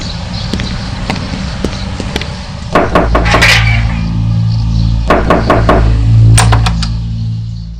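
Someone raps on a house door in a series of sharp, loud knocks arriving in clustered bursts, close and hard, with a low hum and muffled voices underneath.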